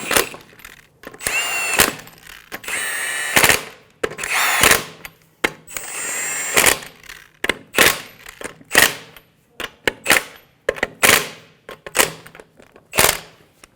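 An impact wrench or power drill snugs down the five wheel lug nuts on a 2003-2008 Honda Pilot, firing repeated loud, close bursts of whirring and rattling separated by brief pauses.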